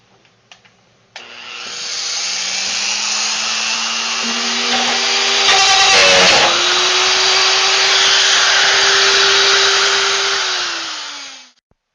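A rotozip spins up and cuts a hole through a plastic barrel with a loud, steady high-pitched whine. It bogs briefly partway through, then winds down at the end.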